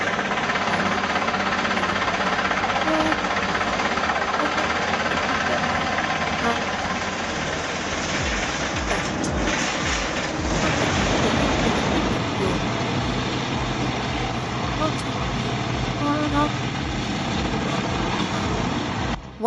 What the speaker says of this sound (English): Logs roll into the blue and orange drum chipper, and within seconds, wood explodes into splinters.